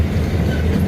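Steady close rumble and rattle of a zoo train ride, heard from aboard with the carriage rolling along the track, loud and continuous with no talk.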